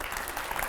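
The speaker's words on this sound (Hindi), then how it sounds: "जोरदार तालियां" Brief burst of studio audience applause during a televised Hindi political interview, steady dense clapping with no voices over it.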